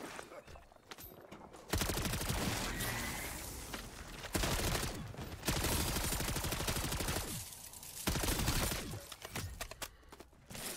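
Season 1 weapons fire in Modern Warfare 3 Zombies, loud bursts of gunshots coming in several long stretches with brief gaps between them, up close and dense, with no talk over them.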